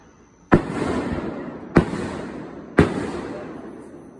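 Neighborhood fireworks go off in three sharp, booming blasts about a second apart, each followed by a crackling, rumbling decay, heard from a moderate distance outdoors.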